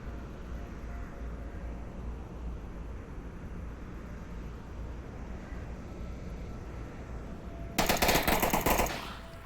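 Rapid automatic gunfire rattles in a competitive match of the VR shooter Onward, a loud burst near the end over steady background game noise and distant shooting.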